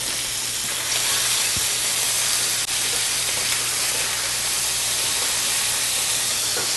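A tomato frying alongside bacon in a black skillet gives off a steady, loud, broadband sizzle that holds unbroken throughout, with no talking.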